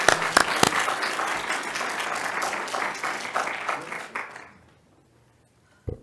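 Dense audience applause at a transportation research showcase in New Jersey, steady and full for about four seconds before stopping abruptly into near silence, with a faint thump at the end.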